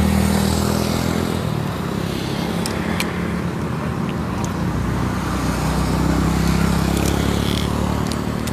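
Motorcycle being ridden off outside Plaza Hentian Kajang, its engine running as a steady mid-level drone mixed with continuous roadway traffic noise, with no speech.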